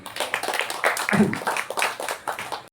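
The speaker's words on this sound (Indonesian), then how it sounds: "Ya tepuk tangan untuk itu." A small group at a scouting activity gathering gives a short round of clapping, uneven individual claps close by, sparse and irregular rather than a full roar, for a few seconds.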